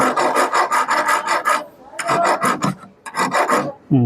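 Hand file rasping on a sewing machine part in quick, rhythmic back-and-forth strokes, close and crisp, with two short pauses between runs of scraping.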